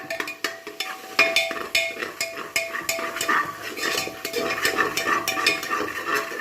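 Ginger garlic paste fries in a pan for chicken fried rice, with a dense run of metal spoon scrapes and taps on the pan over a continuous sizzle, close and fairly loud.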